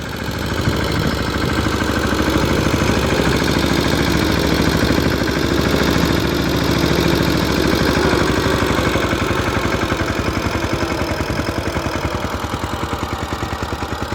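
A tractor engine idles continuously nearby, a steady rumble with an even, throbbing rhythm and no talking.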